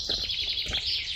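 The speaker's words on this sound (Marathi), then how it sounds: "पक्ष्यांचा किलबिलाट कंटिन्युअसली चालू आहे" A steady chorus of small birds twitters without a break near green rice paddies along Palm Beach Road in Navi Mumbai, with dense, high, overlapping chirps against a faint ambient hum.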